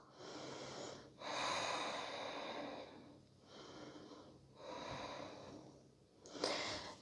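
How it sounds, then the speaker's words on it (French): Slow, deep breathing held through a yoga stretch in a sun salutation sequence: several long, airy inhale and exhale cycles, close and soft, with a sharper breath near the end and no talking. "On va prendre 2 respirations ici."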